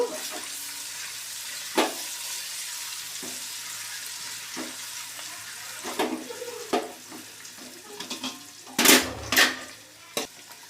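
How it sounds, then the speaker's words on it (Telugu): Eggs fry lightly in oil in a large cooking pot for egg dum biryani, a soft steady sizzle broken by occasional clinks and a few louder scrapes and knocks near the end. "లైట్గా ఫ్రై చేసుకోవాలి ఎక్కువ కలపకూడదు"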